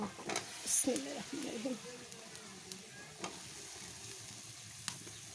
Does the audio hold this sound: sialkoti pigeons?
no